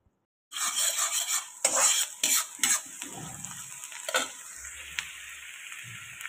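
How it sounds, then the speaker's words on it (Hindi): Chopped onion tossed into hot oil with crackled mustard seeds, giving a loud burst of frying followed by several sharp scrapes and clanks of a spoon against the pan as the sizzle settles, no voices. "राई तड़क गई थी, मैंने इसमें डाल दी है प्याज"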